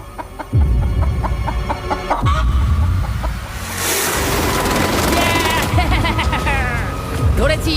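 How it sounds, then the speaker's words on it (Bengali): A chicken clucks and squawks in repeated bursts close by, mixed with scuffling noise and overlapping voices talking. "ও, মুরগিটাকে বেশ ভালো দেখতে কিন্তু।"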